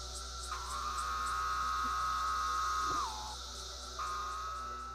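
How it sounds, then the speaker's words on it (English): A Magicicada septindecim cicada gives its droning call, a loud sustained buzzy whine that drops in pitch at its end, pauses briefly, then starts again. "Magicicada septindecim makes a call that sounds like the word pharaoh."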